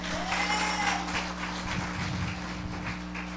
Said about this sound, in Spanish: Denle un fuerte aplauso a Jesús de Nazaret